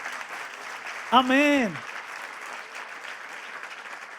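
A church congregation claps in a steady mid-level patter during a sermon, and a single voice rings out over the applause partway through.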